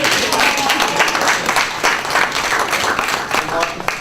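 A crowd at a diversity and inclusion week event breaks into a round of applause, loud and busy throughout four seconds, with some voices mixed faintly into the clapping.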